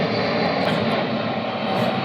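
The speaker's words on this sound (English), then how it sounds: "I'm in the flight path of O'Hare, so that's why you're hearing planes overhead" Airplanes pass overhead in the flight path near O'Hare airport, making a continuous, fairly loud, even engine roar throughout with no voices.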